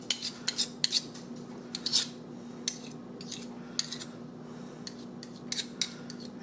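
A ham and corn casserole mixture being stirred in a bowl, sounding as a series of light scraping, clinking strokes in an irregular rhythm, close up, over a steady low hum.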